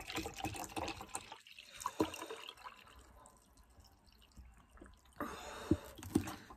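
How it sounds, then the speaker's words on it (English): Water being poured, probably into a glass, with a steady liquid trickle and drips that swell into a louder splash near the end, close to the microphone and without speech. "I'm pouring more water"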